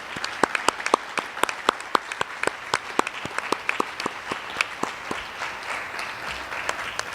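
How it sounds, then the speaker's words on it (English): A crowd claps for long-serving school staff at a board of education meeting, dense applause with distinct individual sharp claps standing out in an even, sustained rhythm. "So how about a round of applause for all of those individuals?"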